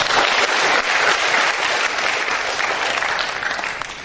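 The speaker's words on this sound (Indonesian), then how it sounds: "Tepuk tangan untuk Yesus." Dense, loud applause from a large seminar audience fills the hall steadily for several seconds, many hands clapping at once with no voices on top.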